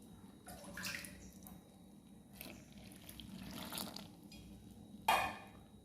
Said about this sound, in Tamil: கேழ்வரகு மாவும் தண்ணி ஊற்றி கரைச்சி வச்சுக்கலாம்.